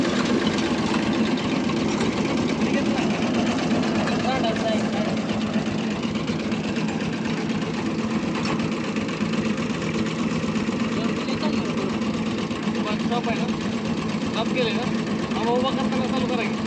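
A heavy tractor engine idles steadily and continuously in a farm field, a low rumbling drone nearby with voices faintly mixed underneath.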